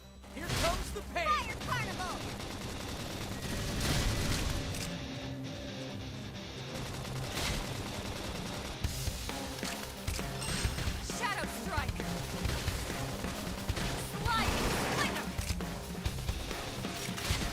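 Fire Carnival gunfire barrage from Xenoblade Chronicles X, a dense stream of rapid shots and impacts layered with battle effects and music, with voices speaking over the action throughout.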